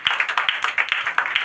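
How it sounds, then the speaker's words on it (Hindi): An audience at a Bihar Board district topper award ceremony claps for a student with rapid, steady handclaps, close and fairly loud, with no voices over it. "ताली मार दीजिए इनका।"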